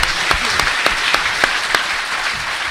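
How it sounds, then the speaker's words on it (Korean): Audience applause at a live public taping of a political talk show, a steady patter of clapping hands from a sizeable crowd with brief sharper claps standing out, filling the whole moment without speech. "이럴 땐 박수를 치지"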